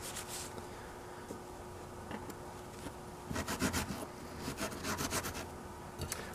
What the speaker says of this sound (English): I'm just trying to get the gum off of it so it's going to slide freely in the mechanism.